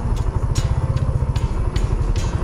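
A Suzuki GN125H motorcycle engine idling close by with a steady low chugging pulse and a faint recurring tick or knock riding over it, the bike at around 10,000 km.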